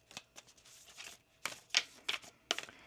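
Tarot cards being shuffled close up, a series of soft papery riffles and flicks in irregular bursts, fairly quiet.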